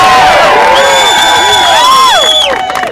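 A large crowd at a voting rights rally cheers loudly with high whoops and shouts over a continuous roar, fading slightly at the end.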